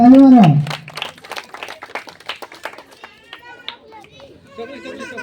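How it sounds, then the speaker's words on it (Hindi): A crowd claps at an outdoor Independence Day prize-giving, with scattered, uneven hand claps and lively chatter and voices running over them. "ताली मारो"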